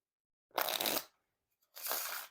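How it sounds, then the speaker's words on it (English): Two quick riffle shuffles of a black Bicycle Aviary deck of playing cards, each a crisp, close flutter of cards about half a second long, separated by a short pause. "those riffle shuffles seem to be pretty good straight off the bat"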